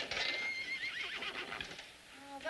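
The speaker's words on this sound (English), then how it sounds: "Those horses are so noisy tonight." Horses neigh and whinny loudly and close by, with some hoof clatter underneath, and no one speaks.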